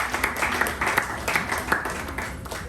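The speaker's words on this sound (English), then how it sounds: "Give a round of applause" A round of applause at a club meeting: dense, continuous hand clapping from a small audience, moderately loud and even throughout with slight rhythmic pulses.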